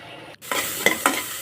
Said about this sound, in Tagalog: igisa muna natin yung ating ricados